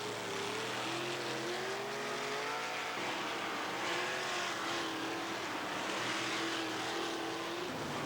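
Race cars roaring around Pennsylvania's speedway in Hagerstown, Maryland, a dense engine drone rising and falling as cars sweep past, one pitched whine sliding through the turn, loud and continuous at a distance.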